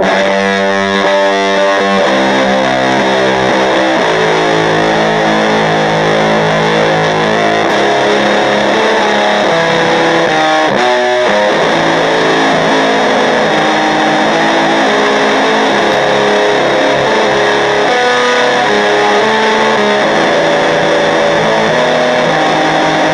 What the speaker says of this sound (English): it gets a pretty obvious and nice fuzz tone